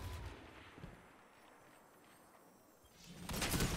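Gunfire in a video game shooter comes as faint, muffled bursts, with a couple of shots at the start and a denser burst at the end, separated by quiet background.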